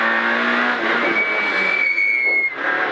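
Citroen Saxo rally car at Rallye Girona 2017 heard from onboard, its engine revving loud and close, pitch climbing then dropping as it shifts, with a brief tire squeal.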